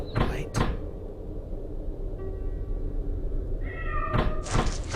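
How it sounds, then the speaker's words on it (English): A cat meows in the video game The Lost Crown, two short distinct cries near the start and another pair near the end over a low ambient hum, with a brief creaking tone between them. "Is there a cat in there?"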